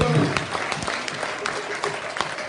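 Church congregation clapping and cheering to acclaim God's presence during a French-language worship service, sustained applause with crowd voices mixed in throughout.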